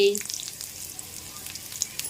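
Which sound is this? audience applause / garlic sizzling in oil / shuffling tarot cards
garlic sizzling in oil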